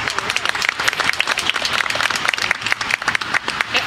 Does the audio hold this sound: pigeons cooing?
no